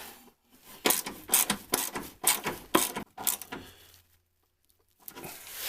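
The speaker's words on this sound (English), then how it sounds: "I'm going to go ahead now tighten up this bottom bolt first" Bottom bolt on a running board being tightened on a Chevy 2500HD pickup, a close series of about eight rhythmic ratcheting bursts, then a pause and a fainter resumption.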